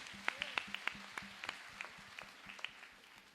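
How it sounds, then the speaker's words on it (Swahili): A church congregation claps briefly, with scattered sharp hand claps and light applause in a reverberant hall, faint and fairly distant. "Tumpigie makofi"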